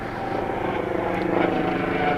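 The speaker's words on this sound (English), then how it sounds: "there goes the medical helicopter" A medical helicopter drones loudly and steadily overhead, its rotor thrum filling the air without a break.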